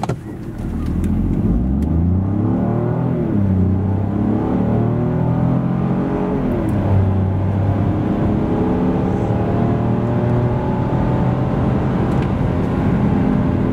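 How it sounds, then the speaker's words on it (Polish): A 2025 Jeep Avenger e-Hybrid with a 1.2-litre 100 hp petrol engine accelerates from standstill to 100 km/h. The engine note rises in strong, loud sweeps that repeat with each gear change, heard close and alone without talk. "Samochód oferuje taką dynamikę przy przyspieszeniu od 0 do setki."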